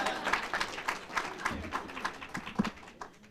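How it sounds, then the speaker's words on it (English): A small group claps at an outdoor historic-site dedication ceremony, with quiet, sparse, uneven claps and a few distinct individual hits. "Round of applause for Mr."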